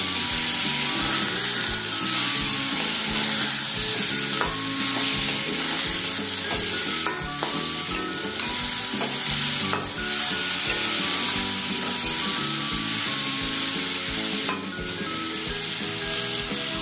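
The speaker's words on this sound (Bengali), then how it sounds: "তো এবার দেবো আমি এর মধ্যে আন্দাজ অনুযায়ী নুন, দেবো হলুদ গুঁড়ো। এই দুটো দিয়ে একটু নাড়াচাড়া করে নিয়ে" Vegetables seasoned with salt and turmeric are stir-fried in a pan. A continuous sizzle runs throughout, and repeated scraping strokes of a spatula stirring the food sound over it.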